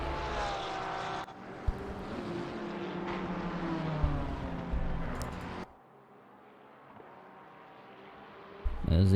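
A Porsche 992 GT3 race car engine roars loudly at a GT3 Rookie Series race, its pitch shifting as it passes, then fades to a distant drone while commentators talk over it.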